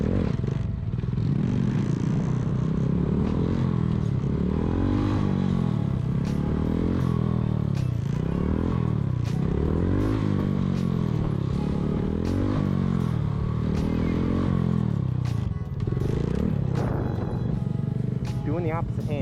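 A motorcycle ridden in stunt practice, engine revving up and down in a steady rising-and-falling cycle, close and continuous throughout, with clattering and scraping mixed in.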